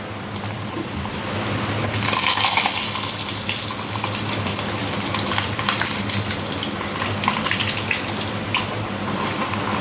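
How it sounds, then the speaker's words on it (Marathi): Rice papad deep-fries in hot oil in a wok, giving a steady, moderately loud sizzling hiss. The crackle swells briefly and then keeps going without break. "तेल तापत ठेवलं आहे कढईमध्ये आणि आमच्या ह्याच्यातमध्ये मी सर्व तळतो पापड वगैरे"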